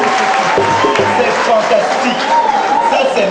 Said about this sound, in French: Je voudrais qu'on acclame.